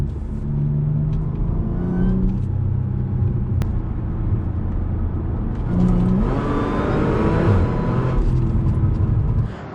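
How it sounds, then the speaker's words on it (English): Supercharged car with a new exhaust after a muffler delete, engine revving and rising in pitch with supercharger whine, loud and close from inside the car in swelling sweeps. "It's nice to hear a bit more of the supercharger"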